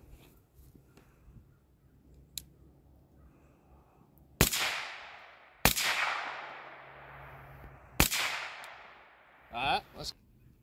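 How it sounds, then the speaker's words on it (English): Three sharp gunshots fired at a target on a shooting course, each a loud crack with a long decaying echo, spaced a couple of seconds apart over a quiet outdoor background. "I actually only fired 3 shots that time."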